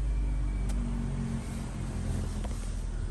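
A 2018 Audi SQ5 with a 3.0 V6 turbo engine running nearby, a steady low rumbling idle that stays even and fairly loud throughout, with no talk over it.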